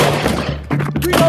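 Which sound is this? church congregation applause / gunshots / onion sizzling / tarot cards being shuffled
gunshots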